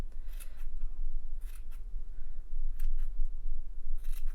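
Scissors snip repeatedly close up while trimming a yarn pom-pom for a crocheted beanie, crisp irregular cuts over a low steady hum, with no talking.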